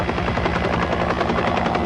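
A helicopter comes in to land on a ship's deck at sea in the film Raise the Titanic, its rotor thumping steadily and loudly with a dense, continuous engine roar throughout.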